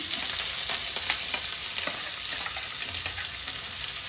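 Chopped onions frying in hot oil in a pan, an even, loud sizzle running throughout with light crackles and stirring, heard alone without talk.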